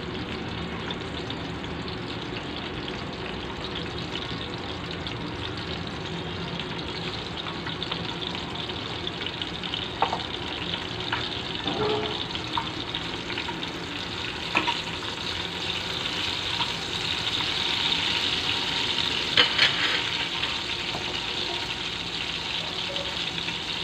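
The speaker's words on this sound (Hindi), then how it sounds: "तो ऑयल गरम हो चुका है। अब इसमें हरी मिर्चें ऐड करेंगे।" Green chillies and cumin seeds sizzle steadily in hot oil for a Sindhi bhindi fry, a continuous close crackling hiss with a few sharper pops and spatters, no voices.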